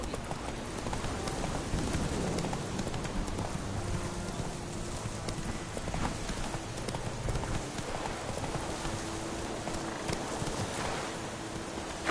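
Roach the horse gallops in The Witcher 3, hooves pounding in a steady, fast rhythm over a wide rushing wind-like background, continuous and fairly loud throughout.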